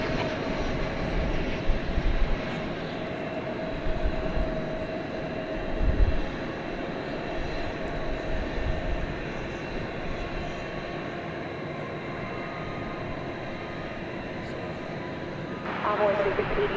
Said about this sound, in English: watch Flight 807, American Airlines, coming in from Austin, Texas. This is an Airbus